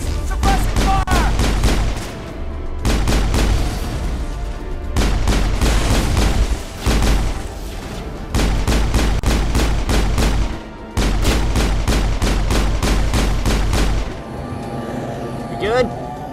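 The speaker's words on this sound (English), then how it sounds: "Suppressing fire." Sustained bursts of rapid automatic gunfire in the Mass Effect video game, loud and close, coming in several long rattling volleys separated by brief pauses, with voices talking underneath.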